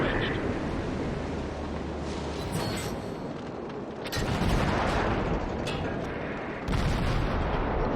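Heavy naval gun salvos in the World of Warships video game, deep booming blasts with rumbling aftermath and broadband roar, loud and repeated, while someone talks over them.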